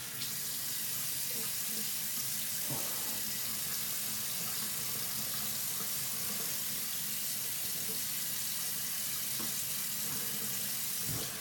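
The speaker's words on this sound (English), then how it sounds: "Quick rinse." A tap runs steadily into a sink for a quick rinse after a shave with a 1903-1904 Gillette Double Ring safety razor, a constant close rush of water with faint splashes throughout.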